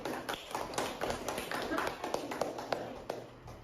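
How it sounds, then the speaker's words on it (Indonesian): Schoolchildren in a classroom clap their hands in a quick, uneven burst of close, sharp claps, with a teacher and pupils talking over it. "Oke, tepuk tangan."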